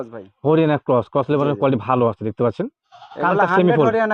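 A Haryana breed goat on a farm bleats loudly and close by, a rapid series of wavering, nasal calls broken by short gaps, ending in one longer drawn-out bleat.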